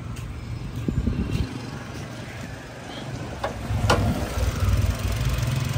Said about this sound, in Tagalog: napakatahimik ng makina niya